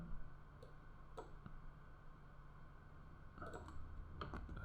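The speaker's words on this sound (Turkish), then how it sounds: "İki defa tıklıyorum." A computer mouse double-clicks in a spreadsheet program: a few sparse, faint paired clicks spread out over a quiet room background, with no speech.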